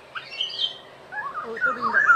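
A black-naped oriole in summer woodland gives short, thin chirping calls, a brief burst followed by a longer run of whistled notes, soft and somewhat distant with no voices.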